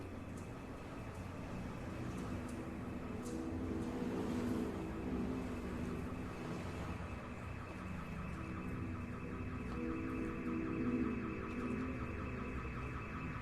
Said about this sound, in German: Irgendwo ist so Alarm.